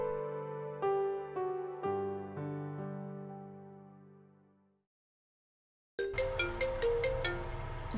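A phone plays a melodic ringtone for an outgoing call. Repeated chime notes fade out, then after a short silence a brighter, busier burst of the tune starts again, fairly quiet overall.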